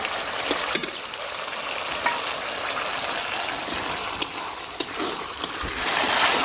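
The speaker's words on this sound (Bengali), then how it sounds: "মশলাটাকে খুব ভালোভাবে কষাতে হবে।" Prawn curry masala sautéed in a pan with a little stone-rinse water added, a continuous close sizzle and bubbling hiss with occasional sharp clicks of a spoon against the pan, steady throughout.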